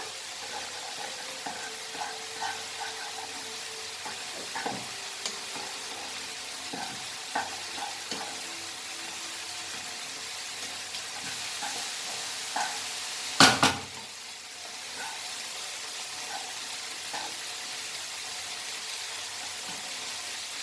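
Noodles being stirred with masala in a frying pan: a steady soft sizzle with regular light scraping taps of the utensil, one louder clatter midway, then continued quiet frying.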